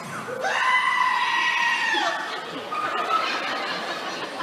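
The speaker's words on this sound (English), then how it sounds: "Screaming goat." A screaming goat sound effect gives a loud, drawn-out bleat rising into a shrill yell, then a second shorter scream, with chuckling laughter around it.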